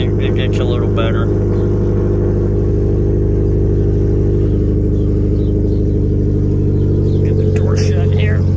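A 2013 Subaru Impreza WRX engine running just after a cold start, a loud, steady low rumble and drone close by throughout.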